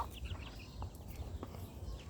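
Soft, low clucking from a hen mingles with faint higher peeps, quiet and close against a muffled outdoor background.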